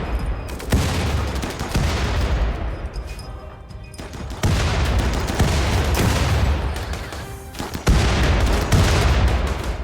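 Explosions and gunfire in a RimWorld battle with grenades: repeated loud bursts of blasts and shots in three dense waves, each starting with a sharp hit and a crackling rumble.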